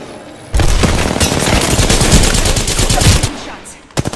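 Rapid automatic gunfire in Apex Legends, loud and close, with a sustained stream of shots for about three seconds followed by a few quick trailing bursts.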